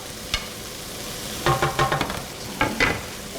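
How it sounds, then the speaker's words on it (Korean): Vegetables are stir-fried with chunjang black bean paste for jjajang rice, a low steady sizzle broken by a brief cluster of scraping, clattering stirs of a utensil in the pan, close and without talk. "춘장이랑 야채가 골고루 섞일 수 있게끔 이렇게 볶아줍니다."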